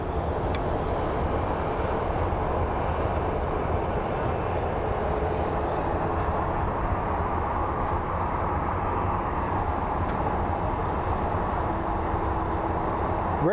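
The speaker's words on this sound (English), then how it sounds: "So up next we have an American Airlines 2965 with services to Washington. It's an A321neo." An American Airlines Airbus A321neo at Phoenix Sky Harbor International Airport gives off a steady, loud, broadband jet roar that holds evenly throughout with no talking.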